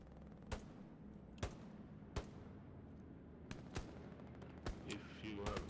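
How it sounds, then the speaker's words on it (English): Distant gunfire crackles in Hell Let Loose, a World War II shooter. Isolated single shots at irregular intervals ring out faintly over a steady battlefield ambience. "Yeah, I can hear shots from there."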